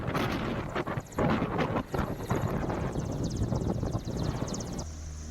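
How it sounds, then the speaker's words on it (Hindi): An Antonov AN-32 military transport aircraft flying at a hill airstrip, its broad roaring engine and propeller drone loud and steady with shifting rumble, buffeted by wind noise, with no speech. "AN-32 विमान उड़ान भरते हुए यहां पहुंचे और उड़ान भरते हुए नजर आए।"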